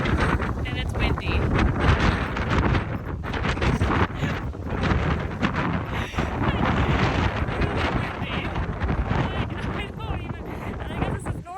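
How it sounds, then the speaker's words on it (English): Heavy wind in Monteverde, Costa Rica buffets the microphone with loud, continuous rumbling gusts that nearly bury faint voices in the background. "It's just windy all the time in this time of year."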